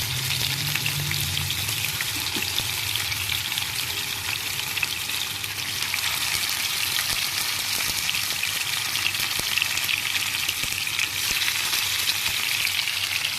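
Fish pieces frying in a grill pan, giving a continuous, even crackling sizzle with fine popping of oil throughout, close and steady with no talking.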